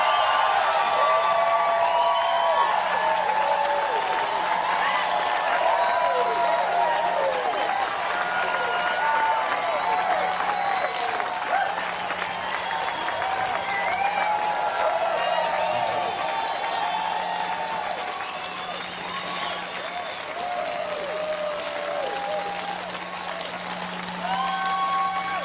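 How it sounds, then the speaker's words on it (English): A motivational seminar audience breaks into loud, sustained applause with cheering and whoops, the clapping filling the room and easing slightly toward the end. "Give yourselves a round of applause."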